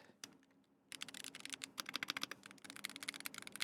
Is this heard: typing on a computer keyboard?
yes